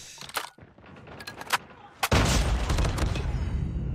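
A grenade explodes in a ranked online shooter match: a sudden loud broadband blast at about two seconds, left rumbling and crackling to the end, after scattered sharp gunshots and brief voice chatter.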